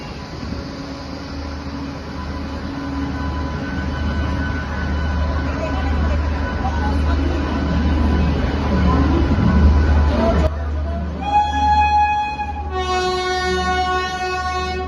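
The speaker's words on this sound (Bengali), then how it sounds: "ট্রেনের আওয়াজে যখন ঘুম ভাঙল" Sealdah Rajdhani Express running on the rails, a steady loud rumble and clatter with a low drone throughout, shifting near the end to tonal horn or whistle blasts in repeated bursts.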